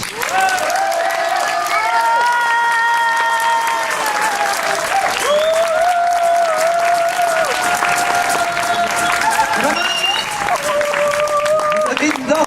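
Festival crowd at a troubadour tournament in Gruyères applauding to vote for the Compagnie Alouette, sustained loud clapping with some cheering, while a voice talks over it.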